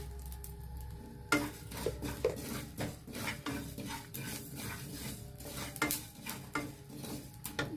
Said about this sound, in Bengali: এটাকে হালকা করে নেড়ে তারপরে দিয়ে দিচ্ছি গোটা জিরে